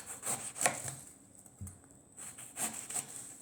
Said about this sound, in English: we're gonna cut this up into wedges and eat it